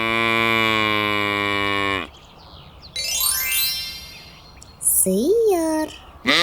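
A cow gives one long, loud, sustained low moo that holds steady for about two seconds and then stops abruptly. Higher chirping and warbling animal calls follow after a short pause.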